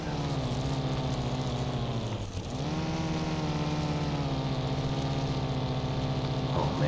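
A 1948 Jeep Willys engine drones steadily at low speed through gravel, grass and sand in Car Mechanic Simulator 2021, its tone dipping briefly midway before resuming an even, continuous hum.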